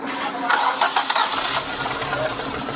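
A car engine cranked by its starter and catching, loud and close, with a rough running sound as it fires up.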